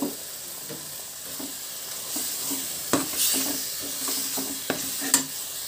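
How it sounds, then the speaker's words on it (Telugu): Spice paste sizzles steadily in hot oil for sambar, with several sharp scrapes and clinks of a spoon stirring against the pan, close and without talk. "పేస్ట్ మొత్తాన్ని వేసి ఆయిల్ బాగా వేయించుకోవాలండి"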